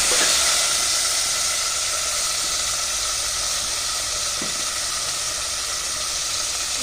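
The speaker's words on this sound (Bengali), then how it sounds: "একদম লাল লাল করে সুন্দর করে পেঁয়াজগুলো ভাজবো" Onions frying in a pan on a home stove, with a little water just added, give a steady, loud, close hiss and sizzle of steam that stays even throughout, with no talking.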